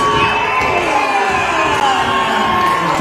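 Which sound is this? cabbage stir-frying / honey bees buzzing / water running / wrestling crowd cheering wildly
wrestling crowd cheering wildly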